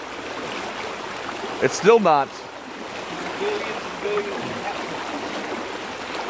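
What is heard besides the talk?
water flowing through a broken dam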